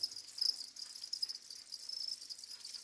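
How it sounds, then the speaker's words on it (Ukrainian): A cricket chirps by rubbing its wings together, giving a steady, high, thin trill that pulses quickly and keeps going with no voices over it. "Хто видає цей звук? Це цвіркун."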